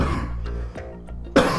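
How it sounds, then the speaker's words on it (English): A single close cough bursts out near the end after a few seconds of quiet room tone. "Excuse me, I'm going to cough."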